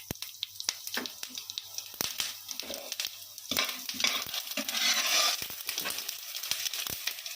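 Mustard seeds, cumin and coriander seeds fry in hot oil, crackling and sizzling up close with sharp pops and scraping stirs, the sizzle swelling briefly partway through.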